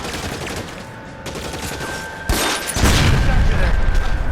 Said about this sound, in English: red barrels explode, by the way.